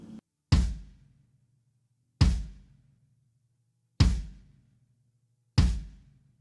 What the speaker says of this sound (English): The largest drum is called the bass drum and is played with the bass drum pedal.